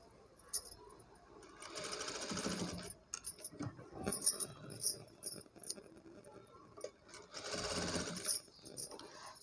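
A sewing machine stitches thick cloth for a baby blouse in two close, steady whirring bursts, with quieter handling clicks and rustles between them.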